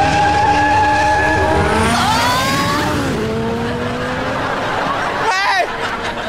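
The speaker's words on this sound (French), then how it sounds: "c'est vous qui avez allumé le moteur?" A car engine roars and revs while tires squeal and skid in long sweeping screeches, loud and close, with voices shouting over the noise.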